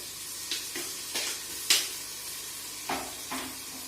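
Tomatoes fry in hot masala for village-style prawn biryani, a steady soft sizzle broken by several brief scraping stirs, heard close with no talking.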